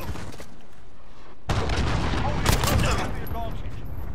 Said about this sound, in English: Enemy cruise missile